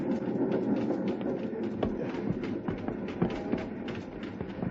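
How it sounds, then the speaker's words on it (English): A train rumbles and rattles along the tracks, with irregular clacks and jolts over a steady rolling drone. "The little train jumping, rocking over the uneven rails."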